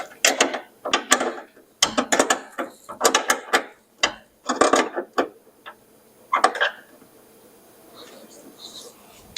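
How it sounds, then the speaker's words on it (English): A wrench ratchets on a bolt underneath a John Deere snowthrower, making a series of close, rapid clicking bursts in quick succession before things fade to quieter handling noises. "The one underneath we'll do with a wrench."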